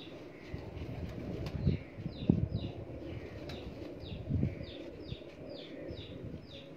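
Pigeons kept by a hobbyist flap their wings in repeated bursts, with soft cooing and faint chirps in between, all fairly quiet and close by in an otherwise calm setting.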